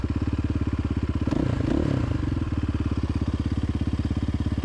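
Kovi Lite 300 R motorcycle with a YBS300 engine starting up, a brief cranking clatter giving way to a steady, close, rapid-pulsing idle that stays loud and even.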